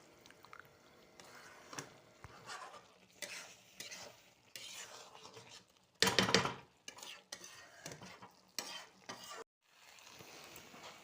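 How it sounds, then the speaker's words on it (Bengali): A spoon scrapes and stirs spiced katla fish head curry (muri ghonto) in a hot pan, with irregular scraping bursts, a loud clatter midway and a low sizzle between strokes, no voices. "এটা দিয়ে এবার নাড়িয়ে নেবো ভালো করে"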